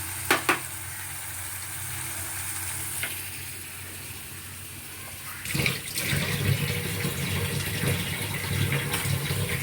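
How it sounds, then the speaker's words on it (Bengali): Water goes into a pan of frying rohu fish curry, with a steady sizzle and splashing hiss. A couple of sharp knocks come first, and the frying swells noticeably louder partway through, close and continuous. "একটু জল দিলাম অল্প করে"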